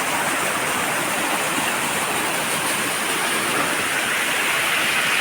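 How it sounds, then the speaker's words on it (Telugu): Stream water flows steadily near a tribal farming area, a dense, even rushing hiss that holds constant throughout with no voices. "వాటర్ అయితే ఈ విధంగా ఫ్లో అవుతుంది"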